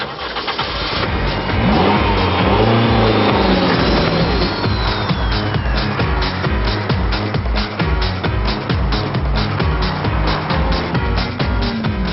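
A Toyota MR2 Spyder, a lightweight two-seat mid-engined sports car on roads in Mallorca, drones loudly and steadily with engine revs rising and falling, close and continuous throughout.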